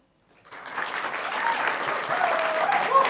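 Applause from a conference audience at a student showcase session rises quickly from silence into a dense, steady clapping that carries on to the end, fairly close, with no speech over it.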